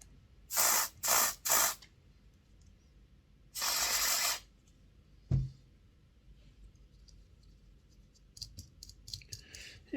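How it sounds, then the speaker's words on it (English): Contact cleaner sprayed onto the wheels of a Tri-ang R753 Class 81 model train: three short close aerosol bursts, then one longer blast, followed by a clunk and light clicking. "We'll try the trusty old contact cleaner just to try and blast all the crap out."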